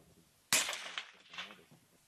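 Sniper rifle shot hitting a target in the war in Ukraine: a single sharp, loud crack followed by a short echoing tail, heard at a distance.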